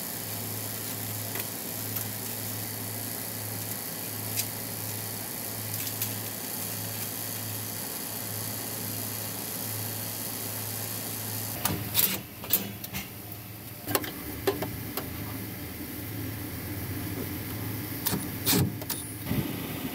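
Vacuum pump pulling a vacuum on the refrigeration system of a Duke reach-in cooler during an evaporator replacement, a steady mechanical drone running throughout, with clanks and handling noises in the second half.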